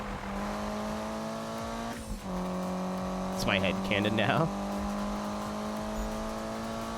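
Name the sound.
Nissan Skyline R34 engine revving in Need for Speed 2015 video game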